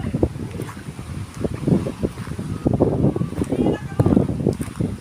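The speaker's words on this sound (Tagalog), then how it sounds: "At malakas din ang hangin" Strong wind roars and gusts across the microphone on a beach during a storm with big waves, rumbling in bursts, while a person talks through it in a close, raised voice.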